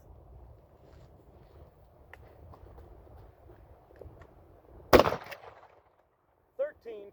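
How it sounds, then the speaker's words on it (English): A single sharp, loud 12 gauge shotgun blast fires an Ultra Clay and Field shell loaded with number 6 shot, ringing out once outdoors, while people talk quietly before and after it. "Now we'll shoot the 12 gauge Ultra Clay and Field, number 6 shot, ounce and an eighth."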